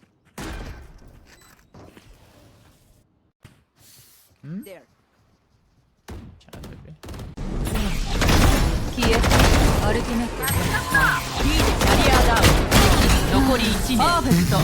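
Gunfire in the video game Valorant: a few scattered shots and thuds early on, then a dense, sustained barrage of rapid shots fills the second half, loud and close, with excited talking over it.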